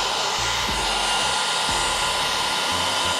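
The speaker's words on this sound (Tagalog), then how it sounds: "Ganda ng blower mo" A blower drying a corgi after its bath gives off a loud, steady whooshing hum that runs throughout, with small shifts as it moves.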